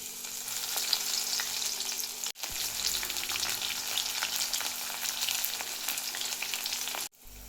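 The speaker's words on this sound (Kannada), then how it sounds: "ಹಾಗೆ ಸ್ವಲ್ಪ ಬೆಳ್ಳುಳ್ಳಿ ಫ್ರೈ ಮಾಡ್ಕೊಳ್ಳೋಣ." Garlic fries in hot oil with a loud, dense, continuous sizzle close by, briefly cut off twice, and no one speaking.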